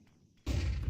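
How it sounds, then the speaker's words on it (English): A flashbang grenade goes off in a Counter-Strike match. After a quiet moment comes a sudden loud, sustained blast-like burst of noise that fills the rest of the second. "Throwing flashbang."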